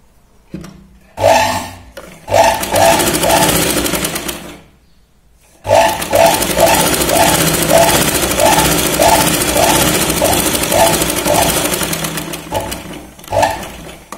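An electric sewing machine stitches a blouse in bursts of steady, rapid mechanical whirring and clatter, a short run first, then a pause, then a long continuous run ending in a brief final burst, loud and close with no talking.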